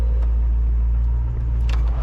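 A 1965 Ford Mustang Fastback engine idles at about 900 RPM, a close, steady low rumble throughout with no voices.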